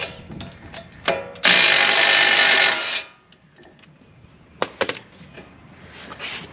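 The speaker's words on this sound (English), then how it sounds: "with a regular impact once I break these free" An impact wrench breaks loose the front brake caliper bolts on a Lexus GX460, one loud sustained burst of rattling hammering followed by shorter metallic clicks and clatter of handling nearby.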